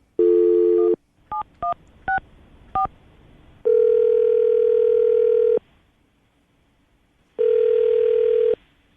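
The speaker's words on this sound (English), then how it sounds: "We're going to call him right now and see if we can get him on the phone." A phone tone sounds, then a rapid series of short keypad beeps as a number is dialed, followed by two long ringback tones separated by silence.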